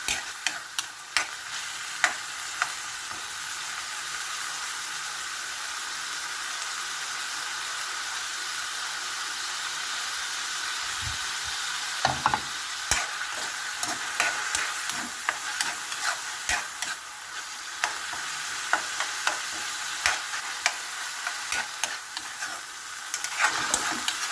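Minced beef sautéing in a pan with sigarilyas, a steady close sizzle with bursts of scraping and clattering stirs growing busier toward the end.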